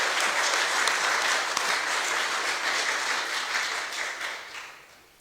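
Audience applause at an Australia Day award ceremony in Lucindale, a dense, loud wash of clapping from a crowd that holds steady and then fades out over the last second.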